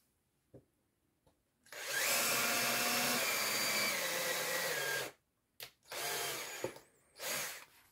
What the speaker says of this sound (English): I probably need to drill a hole in here